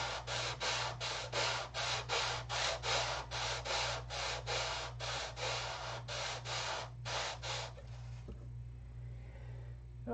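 Sanding with a Durablock sanding block on a stunt model airplane: rapid, regular back-and-forth rasping strokes, about two per second, close and steady over a low hum, stopping near the end.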